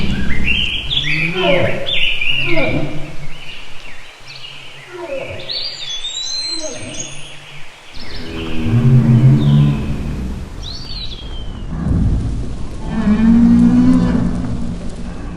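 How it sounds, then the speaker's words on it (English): A reconstructed Brachiosaurus call built by combining animal sounds, made of loud, deep bellowing moos and rumbling groans mixed with high chirps and squeals, layered in long, overlapping calls. "by combining several sounds from animals with similar traits as the Brachiosaurus, I've created what the Brachiosaurus may very well have sounded like"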